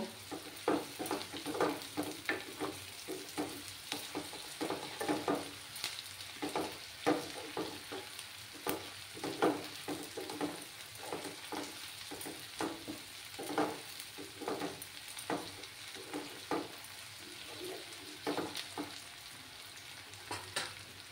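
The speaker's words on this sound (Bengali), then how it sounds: "ভালো করে লাল লাল করে আমি ফ্রাই করে নেব।" Onions frying in a pan until reddish brown for a Bengali-style mutton masala. Made of a steady sizzle broken by repeated scraping strokes of a spatula in a loose rhythm, close and fairly quiet, with no talking.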